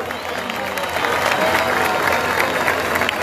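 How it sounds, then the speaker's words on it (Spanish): A large stadium crowd at the closing ceremony of the Bolivarian Games in Valledupar applauds the volunteers, a loud swelling roar of clapping with some cheering mixed in. "Un aplauso para ustedes, por favor"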